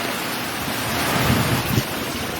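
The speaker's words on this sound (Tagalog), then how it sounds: "kung naririnig niyo po guys, yung ihip ng hangin, yung haginit ng hangin" Strong typhoon wind roars and buffets the microphone outdoors in a steady loud wash, with a brief low gusting surge midway and no voices.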